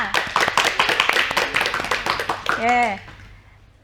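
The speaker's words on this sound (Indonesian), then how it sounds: "tepuk tangannya sekali lagi untuk kita semua" Quick, dense hand-clapping from a group in a university mathematics microteaching classroom, close and lively for a couple of seconds before fading, followed by a brief voice.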